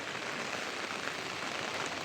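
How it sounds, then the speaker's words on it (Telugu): Steady rain patters down in a dense, even hiss, moderately faint and continuous throughout. "ఇంకా వర్షం పడుతూనే ఉంది"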